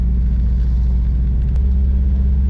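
A stolen, abused truck's engine idling rough and down on power near 2,000 RPM, a loud, close, low droning rumble held steady throughout, no talk.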